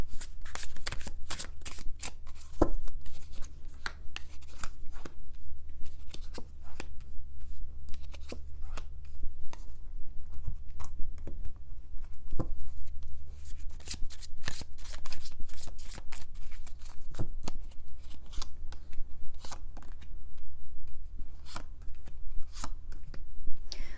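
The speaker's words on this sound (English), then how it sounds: "Let me just pull a couple of cards for those of you in separation." Tarot cards being shuffled and pulled, a steady stream of close, crisp riffling and flicking sounds over a low constant background hum, with no talking.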